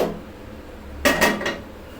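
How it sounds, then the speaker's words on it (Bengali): A kadai being swapped on a kitchen stove: a quiet lull, then three quick metallic clanks and scrapes of the pan close by, fading after about half a second. "এই জন্য আমি এখন কড়াইটা পাল্টে নিচ্ছি"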